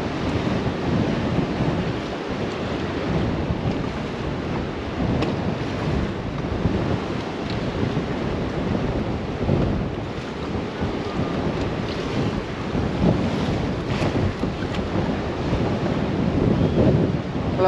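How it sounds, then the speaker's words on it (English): Strong wind and choppy waves surround a stranded fishing kayak near a boat ramp on open water, a loud continuous roar of wind buffeting the microphone with rolling wash underneath and no voices. "the wind picked up out of nowhere and I'm kind of stuck and I can't move anywhere"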